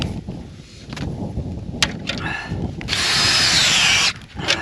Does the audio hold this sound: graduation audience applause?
no